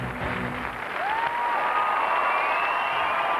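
Audience applauding gymnast Ariella Kessin after her floor routine at the 2004 Swiss Cup, a steady, dense wash of clapping from a home crowd that swells slightly and holds loud throughout, with faint whistles or cheers riding on top.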